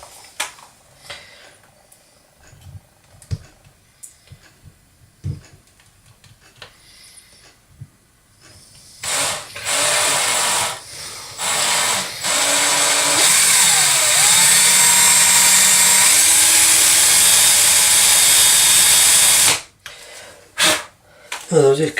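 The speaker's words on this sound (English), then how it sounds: "it's a steady hand to try and keep this drill bit as central as you can until you hit the hole at the bottom" A power drill bores a hole with a long bit, whining loudly and continuously for about ten seconds with shifts in pitch, after quieter handling sounds.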